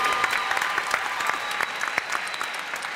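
A crowd applauds the Pop-Up Palace with dense, lively clapping throughout, sharp individual claps standing out over the steady wash of hands.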